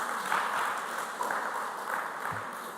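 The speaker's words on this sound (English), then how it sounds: "Give them a round of applause" Audience applause greets a basic school team from Tema in the Greater Accra region at a school quiz semi-final: a steady, dense patter of many hands lasting throughout, with no talk over it.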